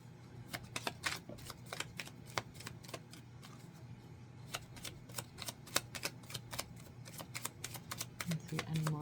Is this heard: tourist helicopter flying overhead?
no